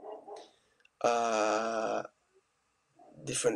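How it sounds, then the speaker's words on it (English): A dog lets out one long, loud, tonal bark or howl-like yelp close by, between stretches of a person talking. "Sorry, that's my dog."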